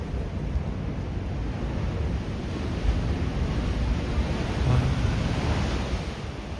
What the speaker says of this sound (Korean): 거친 파도가 치는 추암해변 앞바다입니다.